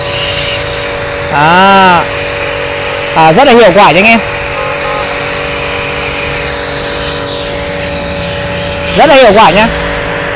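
AMAXGOOLD pressure washer with a foam bottle on a wide fan setting for cleaning a motorbike runs a steady, loud motor drone with hissing spray throughout, while someone talks briefly over it in a few short phrases.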